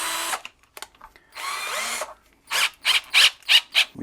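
A cordless drill drives a bendable extension in short bursts: a long whir, a pause, another long whir, then five quick trigger pulses close together near the end.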